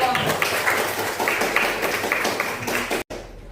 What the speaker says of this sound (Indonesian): Oke, kita kasih aplaus dulu dong.